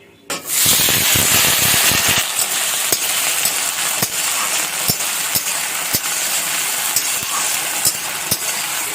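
Cut potatoes drop into hot oil in a pan and fry with a steady, loud sizzle, crackling with scattered pops and spatters throughout.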